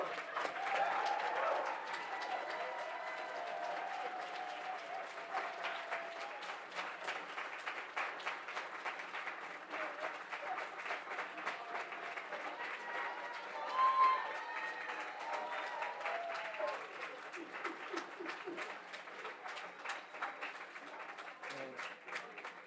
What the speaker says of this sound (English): let's all stand up and let's applaud for our graduates as well